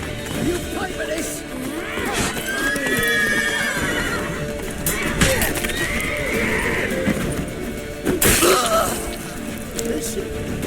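Horses in The Witcher 3 gallop with a continuous clip-clop of hooves, loud and close, with drawn-out neighs and whinnies rising over it, sharp crashes and thwacks, and shouting voices in between.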